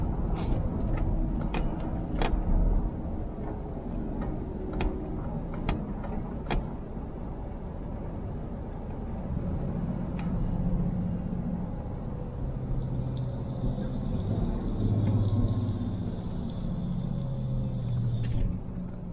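Old Peugeot 106 car driving on a road toward Offenburg, with a steady low engine and road rumble heard from inside, a few sharp clicks and knocks early on, and no talking.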